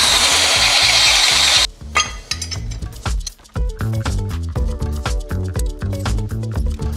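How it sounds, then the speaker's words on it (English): A drill bores an M10 hole through a plate for a Volvo 740 T5 engine block, a loud, steady grinding whir lasting under two seconds before it cuts off and music takes over. "The plate is drilled M8, but it needs to be drilled M10."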